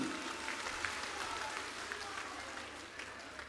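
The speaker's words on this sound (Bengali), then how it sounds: "শুভেন্দু অধিকারী মহাশয় জোরে হাততালির মাধ্যমে সম্মান জানান" Crowd at an outdoor political rally in Bankura applauding Suvendu Adhikari, a steady wash of many hands clapping at moderate level throughout, with faint crowd murmur underneath.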